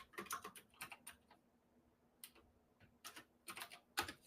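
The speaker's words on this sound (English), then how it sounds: "You're gonna make me type it in" Quiet clicking of a computer keyboard being typed on in short irregular bursts with brief pauses, close but soft, no voices.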